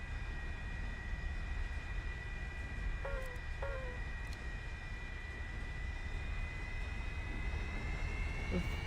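Steady aircraft engine drone at reduced throttle as a jet glides in a descent in War Thunder, a continuous even whine with a couple of faint chirps, no talk.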